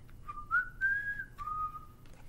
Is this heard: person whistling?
yes